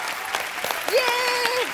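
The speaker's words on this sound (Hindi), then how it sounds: "जोरदार तालियां यार बच्चों के लिए।" Studio audience of a comedy talk show claps for a children's dance act, a short dense burst of applause with a sustained musical tone or cheer running through it.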